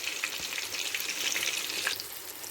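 Chapli kebabs fry in a pan with a steady, dense sizzle and crackle of hot oil, close and continuous with no voices.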